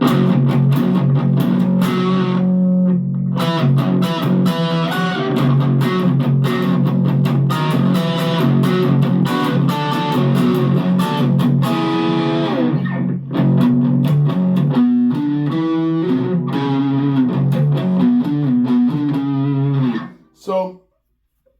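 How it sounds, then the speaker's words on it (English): Electric guitar on a Harley Benton R 458 MultiScale at full distortion with the tone rolled to brown, playing loud sustained riffs for about twenty seconds before cutting off abruptly. "Full distortion with a brown tone."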